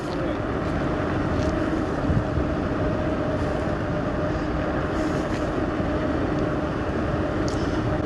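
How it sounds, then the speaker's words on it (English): A single-motor E-Move Cruiser V2 electric scooter at full throttle climbing a steep hill, giving a steady, close motor whine and rushing wind and road noise that stay loud and constant throughout. "All right, so throttle is all the way in. We are currently making our way up."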